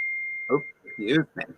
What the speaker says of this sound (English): was that your microwave going off